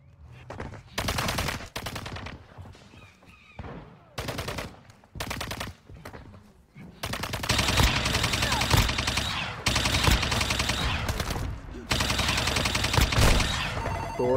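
Gunfire in the Warzone Mobile shooter, with sharp shotgun blasts and rapid bursts of automatic fire, loud and close, sparse at first and then a dense continuous barrage.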